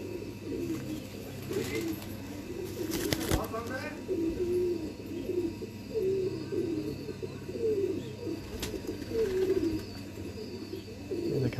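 Pigeons coo steadily in repeated low, throaty phrases, close and clear, while someone talks at times over the birds and a few sharp clicks break in.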